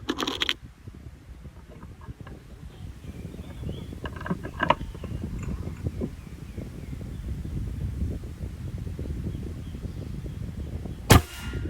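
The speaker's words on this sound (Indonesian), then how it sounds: "Lanjut tembakan ketiga." A lone sharp Sanca Gear air rifle shot cracks out near the end, following a long stretch of quiet outdoor background with faint rustles and taps.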